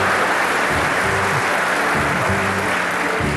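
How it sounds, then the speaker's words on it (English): A theatre audience at a performance of La Cage Aux Folles breaks into dense, sustained applause, a loud continuous wash of many hands clapping with no voices. "You can applaud, you paid for your seats."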